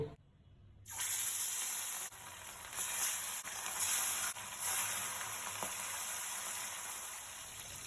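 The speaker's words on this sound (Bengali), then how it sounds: "এবার আমি মাছগুলি ভেজে নেব" Fish pieces rubbed with salt and turmeric sizzle loudly in hot oil in a pan, a steady close crackling hiss that starts abruptly after a brief quiet moment and continues without talk.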